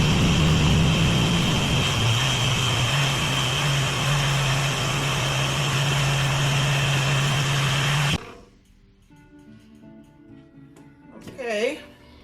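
A blender purees carrots, ginger and water with a loud, steady motor whine for about eight seconds, then cuts off abruptly. Quieter room sound follows, and a voice briefly speaks near the end.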